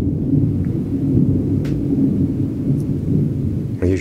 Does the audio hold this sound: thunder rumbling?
yes